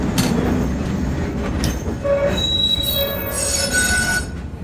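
An Auckland Dockline tram's steel wheels squeal loudly as it rolls into a tram stop on Dalby Street, with sustained shrill tones over a steady rumble of rail noise throughout.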